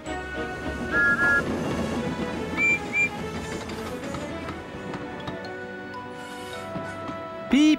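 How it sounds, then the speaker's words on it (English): A few short, high steam whistle toots from a cartoon steam engine ring out over a busy musical backing, with a final louder blast at the end. "Beep, beep, whistled Percy"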